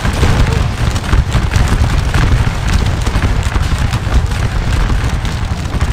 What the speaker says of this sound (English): The men continue to fire.